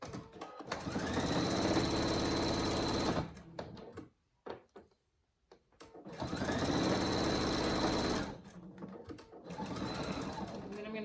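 Sewing machine stitching a fabric hammock with webbing for an animal cage, with two long steady runs of rapid mechanical whirring broken by a quiet gap where the fabric is turned, recorded up close.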